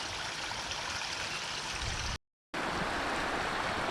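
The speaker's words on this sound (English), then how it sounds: "Little mini waterfalls." Small cascades in New York Creek during rain give a steady, broadband rush of falling water close by, continuous apart from a brief silent cut midway.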